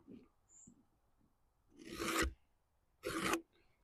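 Rasping strokes filing wood on the trolley of a 1921 Lister TM stationary engine, two distinct loud scraping passes close by, with faint handling noises between them.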